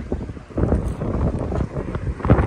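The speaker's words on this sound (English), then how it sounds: "Saturday morning, kind of windy, cloudy." Wind gusts outdoors on a cloudy Saturday morning in Guyana, rumbling and buffeting the microphone in uneven, close pulses throughout.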